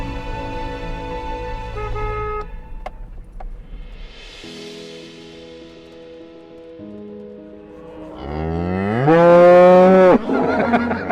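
Cattle moo loudly on an organic beef farm, with a long low call early on and a stronger, rising bellow near the end over a steady, faint outdoor hum.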